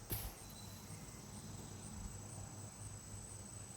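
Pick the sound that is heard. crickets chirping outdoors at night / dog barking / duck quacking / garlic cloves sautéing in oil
crickets chirping outdoors at night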